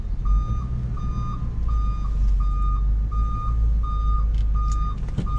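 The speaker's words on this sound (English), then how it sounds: "backing up this truck. Something's squeaking." Old truck backing up, its reversing alarm beeping in a steady, evenly spaced series over a low engine rumble, with a few brief squeaks and clicks near the end.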